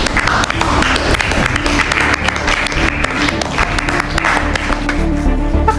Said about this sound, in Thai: ทุกคนปรบมือเป็นกำลังใจให้แพรไหมหน่อยเร็ว